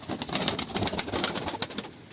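A Turkish tumbler pigeon in a loft gives close, rhythmic pulsing calls, a quick run of soft repeated sounds with no talk.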